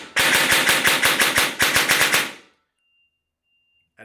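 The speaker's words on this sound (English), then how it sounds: "On auto, we've got about 30 RPS and typical Apache noise." An airsoft Scythe Apache gun fires on full auto in one rapid, sharply cracking burst lasting about two seconds, loud and close to the mic, followed by silence.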